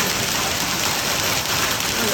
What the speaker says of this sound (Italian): sta grandinando di brutto